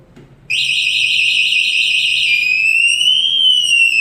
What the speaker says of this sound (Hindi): मैंने इसको ज़रा सा छेड़ा बाइक को तो इसने बीप करना शुरू कर दिया है